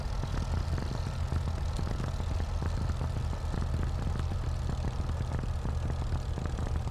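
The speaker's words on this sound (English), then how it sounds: "that burbling sound of the engine is delicious" A Hawker Hurricane's piston engine burbles steadily in a flight simulator, a constant deep rumble with irregular popping crackles running throughout, no voices.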